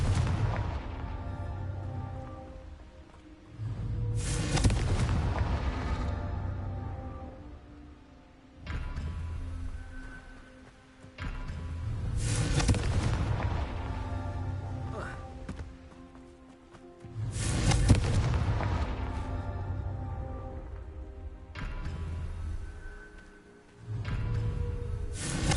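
Repeated Confringo fire-spell blasts from Hogwarts Legacy boom in heavy bursts every few seconds, each explosion swelling loud and rumbling before fading, alone with no talk.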